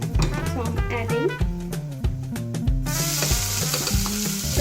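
Chopped onion crackles and sizzles loudly in hot oil in a pan while cooking moong dal, with bright spitting bursts, stirring knocks and a rising hiss partway through, close and continuous without speech.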